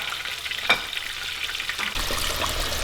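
Wild turkey sliders deep fry in hot oil, a dense, continuous crackling sizzle close by with one sharp clink early on and the bubbling growing fuller toward the end.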